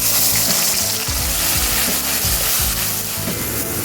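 Ginger, garlic and onion paste hitting hot oil with sugar and whole garam masala, a loud, steady sizzle with crackling bursts, close and continuous, no voices.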